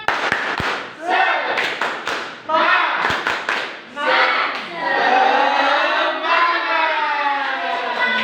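A first-grade class claps out a rhythmic spirit clap in a classroom, sharp hand claps in quick patterned bursts mixed with children's voices chanting along.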